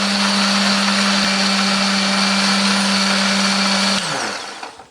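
A blender grinding spice paste with a little water whirs steadily at high speed for about four seconds, then winds down as the motor cuts off.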